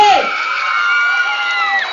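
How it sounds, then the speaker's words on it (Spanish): A crowd at a beach-season pageant cheering and whooping loudly for a contestant, a sustained, dense burst of shouting voices close by. "Aplausos para la número 1."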